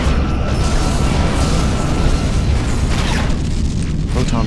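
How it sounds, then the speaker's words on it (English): A Romulan starship blows apart in a Star Trek: Legacy space battle, a loud, sustained rumbling blast with dense low-end roar filling the whole stretch, steady and close with no pause. "Romulan vessel destroyed."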